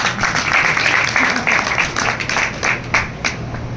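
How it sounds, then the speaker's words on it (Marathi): An audience at a Warkari kirtan breaks into applause, a dense wash of many hands clapping that swells and ebbs with some rhythmic unison claps toward the end, with a voice talking over it. "तुम्ही खरं टाळ्या वाजवा"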